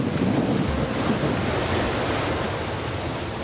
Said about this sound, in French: Mais c'est pas facile avec le vent et la mer est bien.